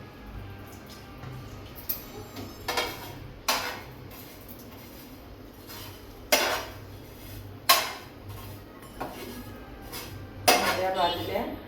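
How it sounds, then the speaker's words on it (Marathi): Something is roasted in a spoonful of ghee in a pan for kheer, with a metal spoon knocking and scraping against the pan in sharp, irregular clanks. A voice is heard between them. "तूप एक चमचा सोडून त्यात भाजून घ्यायचे"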